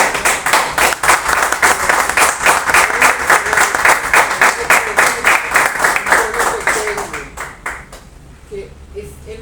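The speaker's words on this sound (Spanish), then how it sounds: "Yo quisiera pedir un aplauso" Applause at a press conference, a crowd clapping loudly and close in a strongly rhythmic, unison beat that holds for several seconds, then thins and fades out near the end.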